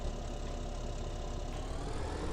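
A tractor engine idling in Farming Simulator 17, a steady, even mid-to-low rumble that holds constant and close for the whole stretch with no other sounds.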